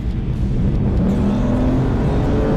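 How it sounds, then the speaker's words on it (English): An Aston Martin V12 engine revs at full throttle in a busy city, a loud, smooth, continuous roar that climbs steadily in pitch from inside the car. "This V12, as silky as and smooth as it could be, it still wants you to go full throttle"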